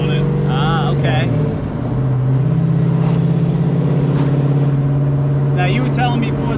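A 1969 Pontiac Firebird with a four-speed and Flowmaster racing mufflers rumbles steadily up close, its deep exhaust note holding an even idle with a slight rise, while people talk over it.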